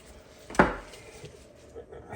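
A knife cuts through raw skirt steak during butchering, giving one sharp, close thunk of the blade meeting the board and then a quiet room.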